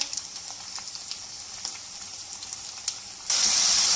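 Whole cardamom, cloves, cumin and red chillies frying with potatoes in hot oil, giving a steady crackling sizzle with scattered pops, close and moderate, then swelling suddenly into a louder, denser hiss near the end.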